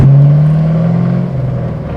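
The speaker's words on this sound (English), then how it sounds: "I'm very, very happy with the way the exhaust came out." LS V8-swapped Hyundai Genesis Coupe with a custom-built full exhaust system revving, a loud, close, deep throbbing drone that swells and then slowly settles, with no talking.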